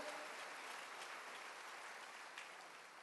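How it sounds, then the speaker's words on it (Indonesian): A church congregation applauds enthusiastically, a dense sustained patter of many hands clapping at once that stays steady before easing slightly toward the end. "Tepuk tangan yang meriah."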